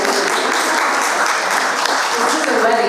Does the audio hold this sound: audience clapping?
yes